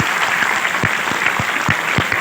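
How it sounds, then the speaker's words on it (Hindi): Audience applause for a student at a coaching centre, a brief burst of dense crowd clapping with some louder individual claps standing out close by. "तालियां बजाने के बच्चे के लिए एक बार यार"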